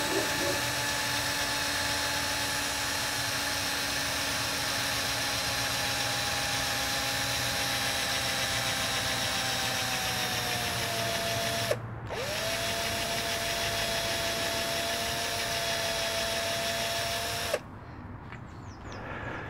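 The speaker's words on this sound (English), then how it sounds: "So the holes are drilled and made them a little larger" A power drill boring holes in elm wood runs steadily at close range, its whine holding mostly level with two brief stops and restarts.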